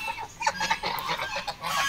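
White ducks quacking outdoors, a busy run of repeated nasal calls at moderate distance, overlapping and irregular in rhythm.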